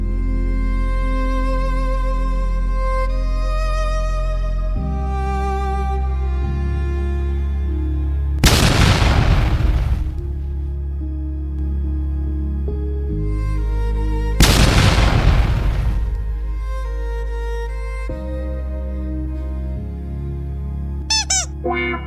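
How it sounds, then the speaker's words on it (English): Two loud, deep explosions from bombs hurled by Boomers in Fallout: New Vegas, each a sudden broadband blast that rolls out over about a second, heard over steady game music, with a brief sharp burst near the end. "today we're gonna talk to these guys that do throw bombs at us"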